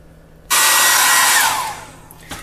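A 1875-watt hair dryer switches on and blows a loud, steady rush of hot air for about a second and a half, then winds down as it shuts off, with no talking.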